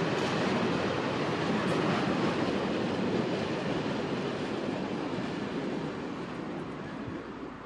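A train runs along rails in Israel toward the Dead Sea, a loud, continuous rumbling roar with rattling wheels that stays close throughout and eases slightly toward the end.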